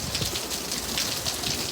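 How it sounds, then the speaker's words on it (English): Steady rain falls in Islamorada in the Florida Keys, a dense hissing patter of drops close by with no other sounds. "it goes like this, and it goes like very slow, pretty good rain"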